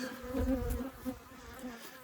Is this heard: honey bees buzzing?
yes